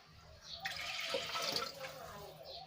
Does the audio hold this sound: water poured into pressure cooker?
yes